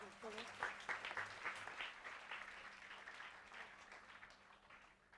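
An audience claps to welcome a young speaker, Master Adit Kadia, onto a stage: dense, steady applause that swells early and then gradually thins out, with some background voices mixed in.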